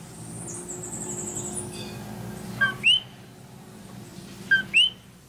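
A small bird in Puerto Rico calls from nearby with two pairs of sharp rising chirps, a high whistly tone fading out before them against soft ambient noise.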